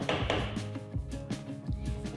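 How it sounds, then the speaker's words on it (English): A spoon knocks and scrapes through chopped vegetables in a pot, making a steady run of soft, close clunks, with faint music underneath. "Once everything is in our pot, we will mix it with a spoon to make sure that the salt and pepper are evenly dispersed"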